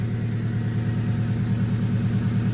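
A turbocharged Acura RSX engine idles with a smooth, steady low hum and a faint pulsing throb, fairly close and fairly quiet for its kind.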